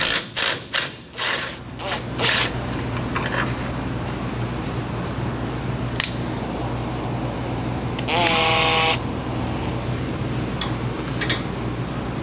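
A ratchet wrench with a 9/16 socket backs out the last transmission bolt on a 1964 Ford F100 with a Ford 3.03 toploader, giving a short buzzing ratchet run after scattered metallic clanks over a low steady hum.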